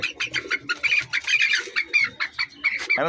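Agitated farm chicken clucking and squawking as it is caught, rapid and close, ending in a louder alarmed squawk as the bird flaps.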